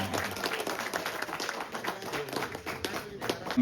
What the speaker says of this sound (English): Guys, give a big round of applause.